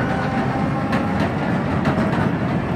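An underground mine train rumbles through a salt mine in a steady, loud, close roar, with faint rhythmic clicks of the wheels on rails and no talking.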